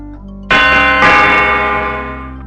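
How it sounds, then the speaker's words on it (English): Chimes from the doorbell of a lock system in the JumpStart 3rd Grade video game: two bright, loud bell strikes half a second apart over a low hum, ringing with a sustained metallic tone that slowly fades. "the professor's lock system only opens when you reproduce the chimes you hear"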